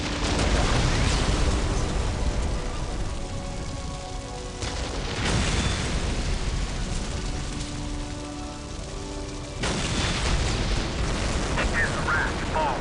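Artillery battery firing in Warhammer 40k Dawn of War, heard as loud, sustained rumbling barrages with heavy booms that swell in waves, with a voice speaking over them.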